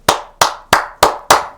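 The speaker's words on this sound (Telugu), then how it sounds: "ఒక్కసారి క్లాప్స్ వేసుకోర్రా" Five sharp, evenly spaced hand claps ring out close and loud, each crisp slap decaying quickly before the next in a steady rhythm.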